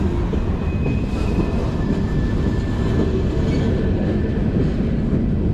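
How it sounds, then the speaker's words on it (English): A train rumbles past close by in Bellevue, Ohio, a steady heavy roar of rolling wagons with faint metallic squeals drifting over it. "Still in Ohio, waiting on the train to pass."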